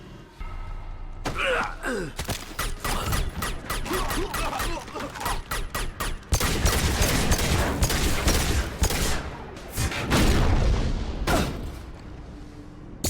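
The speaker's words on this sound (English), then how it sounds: "Taking fire! We've been spotted." Rapid bursts of automatic gunfire and blasts rattle through a Mass Effect 2 firefight, loud and dense for the whole stretch with sharp repeated shots.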